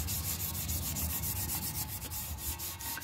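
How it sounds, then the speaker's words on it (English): Steady rubbing and scrubbing as rust is wiped off a porcelain toilet tank with acid, a continuous close abrasive swishing with slight rhythmic strokes and no talking. "Wipe it along the tank, and look, it removes the rust like it's nothing."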